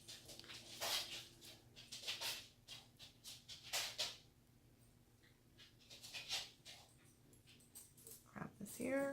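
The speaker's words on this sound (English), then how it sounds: "I'm gonna have to let the dogs out." Dogs in a house whimpering and panting in quick bursts, with soft high whines and a short yelp near the end, over a low steady hum.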